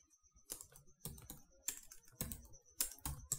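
Quiet, close keystrokes come in short irregular bursts as someone types on a computer keyboard, with brief pauses between the clusters of taps.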